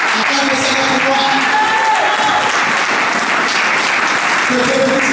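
A church congregation claps together in praise during a worship service, a dense, sustained wash of applause close by, with voices and musical tones mixed in.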